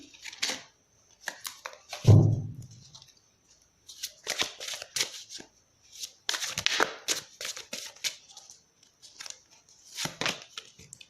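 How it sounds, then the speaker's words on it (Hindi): Tarot cards handled and drawn from a deck at close range, with dry papery slides, flicks and shuffling rustles in short bursts separated by quiet gaps, plus one soft thud. "मैं इस कार्ड को ले लेती हूँ क्योंकि ये बार बार आना चाह रहा है आपकी रीडिंग में।"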